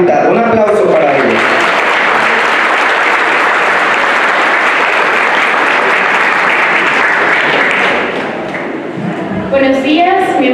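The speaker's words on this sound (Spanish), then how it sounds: "Un aplauso para ella." Loud, sustained applause from an audience at a school faculty event launching a program against violence, filling the room for about eight seconds before fading as a voice begins speaking.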